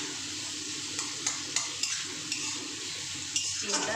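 Chopped onion sizzles in a hot pan, a steady close frying hiss broken by light clinks and scrapes of a spoon stirring against the metal, with no talk.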